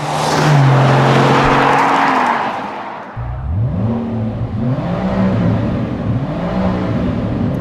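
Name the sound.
car engine revving to soft limiter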